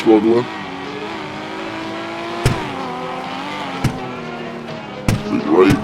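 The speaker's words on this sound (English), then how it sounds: "Big on the brake, downshift one more, and to the left, struggling." A car in a racing video game brakes hard and drops a gear, its engine tone sliding up and down with a sharp blip, while a commentator talks over it throughout.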